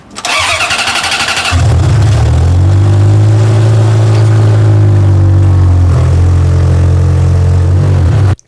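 A Ferrari F355 with a manual gated shifter cranks briefly on the starter, then catches and settles into a loud, close, sustained engine roar with a slight swell in pitch before cutting off.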